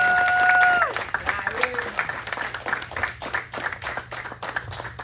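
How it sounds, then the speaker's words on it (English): Applause and clapping from a gym crowd at a jiu-jitsu black belt ceremony, rising after a brief tone and continuing steadily for several seconds with some voices mixed in. "Round of applause for Mario."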